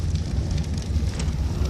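A campfire burning in the video game ARK, a steady close crackling roar with a low rumble, no voices over it.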